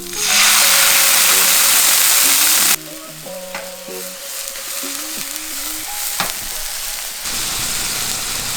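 Wine poured into a hot pan bursts into a loud, bright sizzle that cuts off abruptly, then a quieter simmer continues with utensil clinks and stirring.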